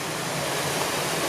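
Waterfall at Robinson Brook Cascades on a trail swimming hole: steady, dense broadband rush of falling water, close and continuous throughout, with no talk.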